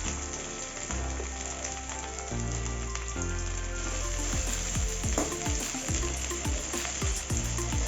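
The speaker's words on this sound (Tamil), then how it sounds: "இப்போ நம்ம ஃபர்ஸ்ட் வெண்டைக்காய் வணக்கி எடுத்துடலாம்" Okra (about 100 grams) sautéing in a pan, a steady dense sizzle with bursts of stirring scrapes and clatter, close and continuous with no talk.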